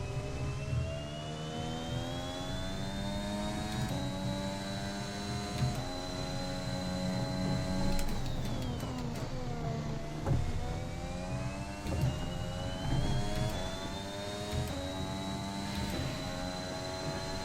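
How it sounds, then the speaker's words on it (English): A Honda Formula 1 engine in the F1 2021 racing game gives a steady high whistling whine that climbs and falls with gear changes and revs, loud and continuous with no voices. "The Honda engine sounds weird. It's got like a whistle to it. It's a whine."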